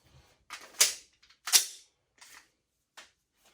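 A firearm dry-fired with dummy rounds gives a handful of quiet, sharp mechanical clacks and clicks spaced out over a few seconds, with near silence between them.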